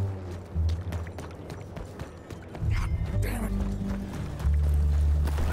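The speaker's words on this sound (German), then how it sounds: "Komm her, Pferd." Horse hooves in the video game Red Dead Redemption 2 clop in quick irregular beats under heavier rumbling game sounds, with a voice speaking partway through.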